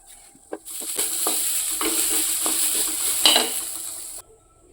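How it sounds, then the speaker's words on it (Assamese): Grated coconut frying in a pan for gur laddu, stirred steadily: a continuous close sizzle with intermittent scraping and tapping of the spatula against the pan, no voices, stopping abruptly near the end. "এফাল নাৰিকল লৈছিলোঁ মই তাকে ভাজি ল'ম"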